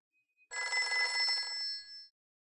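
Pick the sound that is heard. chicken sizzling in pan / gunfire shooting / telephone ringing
telephone ringing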